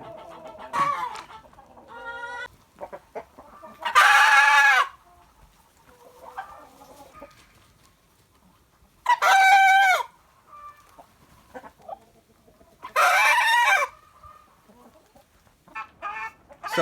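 A hen gives three loud, drawn-out rooster-like crowing calls close by, separated by quieter clucks and soft chicken murmurs.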